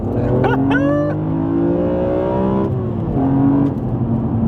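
A BMW Z4 M Coupe fitted with a CSL carbon airbox intake revs loudly and close, its engine note climbing sharply, holding, then easing back and swelling again in several pulls.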